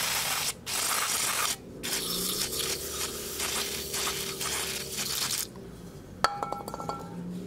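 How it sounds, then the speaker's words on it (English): Brake cleaner sprays in long hissing bursts over a Chevrolet Cruze engine during an oil change, with short pauses between blasts, followed by light metallic clinks of parts being handled. "Then just use some brake cleaner to clean away all the old oil."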